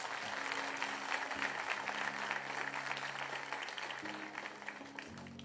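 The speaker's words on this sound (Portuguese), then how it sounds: "vamos aplaudir Jesus pela vida dela" Church congregation clapping at a service, a soft, even patter of hands held at a distance under a steady tonal hum from the room's music or sound system.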